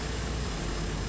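Steady propeller-aircraft drone of an Analog Caravan or Kodiak in a flight simulator, heard on the ground at Réunion Island, a continuous broadband engine hum throughout the short clip with no talk.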